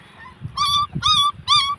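A puppy stuck in water whimpers and yips in three rising, whining cries, close and fairly loud, with faint low background noise between them.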